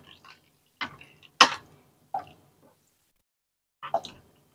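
A spoon stirs cereal and milk in a bowl, making a few short, wet clinks and sloshes spaced irregularly, close and fairly quiet, with pauses between them.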